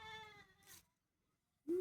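A goat gives two short, quiet bleats, the first wavering and fading out and the second a sharp call after a pause of silence.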